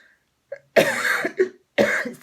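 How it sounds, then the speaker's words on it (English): A few harsh, close coughs in quick succession, separated by brief silences. "I've been coughing all morning"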